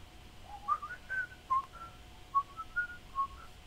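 A person whistles a short, wandering tune of several clear notes with pauses between them, close and fairly quiet, while building a Lego Mandalorian Brickhead set, over a soft room hiss.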